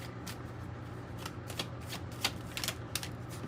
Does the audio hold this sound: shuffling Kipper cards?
yes